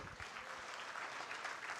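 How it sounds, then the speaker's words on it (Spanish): A church congregation applauds the Lord during a Spanish-language sermon, giving a steady wash of clapping that holds evenly through the whole moment and stays fairly quiet in the room. "¿Cuántos dan un fuerte aplauso al Señor?"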